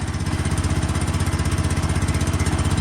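The engine of a wood processor runs cold with no choke in a loud, close, rapid pulsing chug, a steady rhythmic beat with no talk over it.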